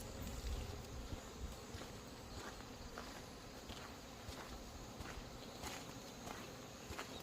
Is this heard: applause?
no